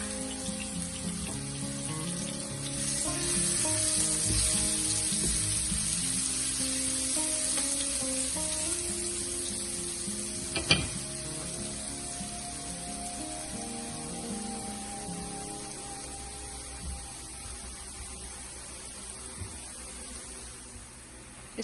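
Green chili and ginger paste frying and being stirred in a pan for samosa filling, a steady sizzle that runs the whole time with a few scrapes and one sharp clink near the middle, and nobody talking.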